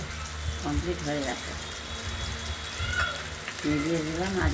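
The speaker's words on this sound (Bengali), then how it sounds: "আমাদের চাল কুমড়ো ভাজা প্রায় কমপ্লিট হয়ে এসেছে" Ash gourd slices frying in hot oil in a home kitchen give a steady, close sizzle throughout, with a voice talking over it at times.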